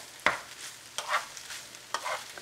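Farfalle bow-tie pasta with asparagus and hamburger meat being stirred in a frying pan, three scraping strokes of the spoon over a soft sizzle, near and alone.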